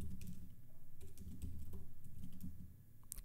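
Keys on a computer keyboard clatter in short, irregular bursts while code is edited for a Laravel 11 web page, with faint clicks over a low background hum and no voices.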